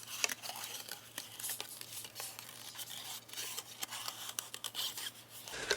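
Scissors snipping through an old valentine card, a series of quiet, scattered cutting clicks and soft paper rustles spread across the clip, close and faint with no talking.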